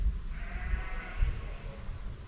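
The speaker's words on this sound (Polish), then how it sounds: "bardziej słychać jakieś barany z zapłotu, to może usłyszycie" Rams bleat from behind a fence near a wooden Orthodox church in rural Podlasie, Poland, a drawn-out wavering cry heard at moderate distance over outdoor wind rumble.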